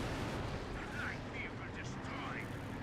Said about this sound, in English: Artillery coming in.